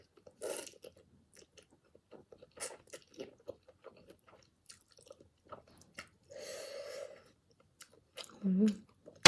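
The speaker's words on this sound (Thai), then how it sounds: "ไก่อันนี้นางเหนียวเวอร์เหอะกัดไม่ขาด" Tough chicken is chewed and bitten close to the mic while eating Korean carbonara instant noodles, giving a run of soft wet crunches and bites separated by quiet gaps, with a brief voice near the end.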